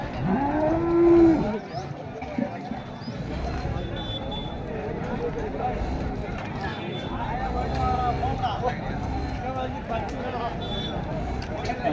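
Cattle moo loudly at the start, a long low call, over a busy cattle market background with people chattering in Tamil and more animals nearby.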